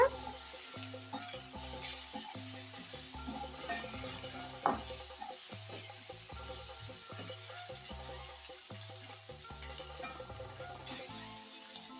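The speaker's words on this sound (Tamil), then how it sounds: "இப்போ அது சிக்கனை போட்டு நல்லா கலக்கி விட்டுக்கலாம் நல்லா வணக்கி விட்டுக்குங்க" Chicken for biryani sizzles and crackles in a hot pan while a utensil scrapes and stirs in rhythmic strokes, with a faint clank partway through.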